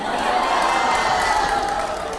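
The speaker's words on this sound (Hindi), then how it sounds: "पहले जोरदार तालियां होनी चाहिए आप" Loud studio audience applause on an Indian Hindi television chat show, a dense continuous wash of clapping with some cheering mixed in, sustained and near throughout.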